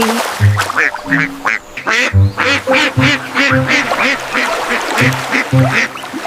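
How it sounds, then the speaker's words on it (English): Duck quacks in a children's nursery rhyme about five little ducks come in a steady rhythmic series of loud, close calls over a bouncy musical backing. "Mother duck says quack, quack, quack."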